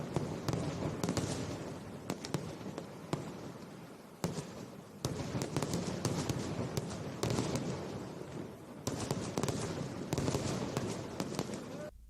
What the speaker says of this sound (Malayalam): മികച്ച ദൃശ്യ ശ്രവ്യ അനുഭവം തീർത്ത സാമ്പിൾ വെടിക്കെട്ടിന് ആദ്യം തിരിതെളിയിച്ചത് തിരുവമ്പാടി